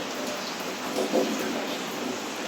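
Rain falls steadily as water collects and fills up, a constant close hiss with a brief louder swell partway through and no voices.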